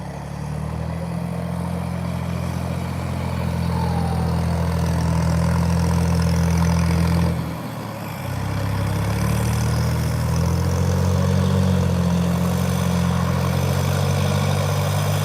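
A John Deere 5076E or 5075E tractor engine idles in a field, a steady low diesel throb that dips briefly midway and then settles back to its even chug, close by and without talk.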